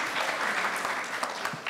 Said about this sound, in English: feel free to clap so we don't have these awkward silences